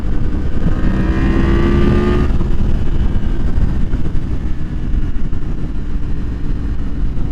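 A 2023 Yamaha MT-10 motorcycle with the AIS removed roars loudly and steadily close by, its engine rising in a revving pull for the first couple of seconds and then holding a broad, continuous drone with no talk.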